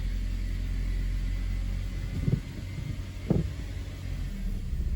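A Suzuki SX4 AWD car engine idles steadily right after a clutch replacement, a constant low rumble with two brief louder bumps partway through, heard close and without speech.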